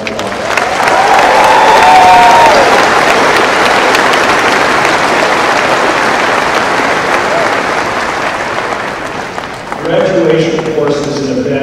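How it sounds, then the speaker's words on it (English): Broad, loud applause from a commencement audience at a 2014 Papillion-La Vista graduation ceremony, sustained evenly for about ten seconds before tapering as a voice begins speaking near the end. "Please give all of our mothers and grandmothers a round of applause."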